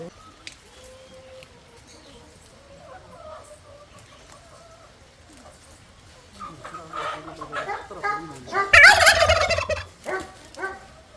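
Chickens cluck and call nearby, at first softly and sparsely and then building into louder, busier bursts, while people talk in the background.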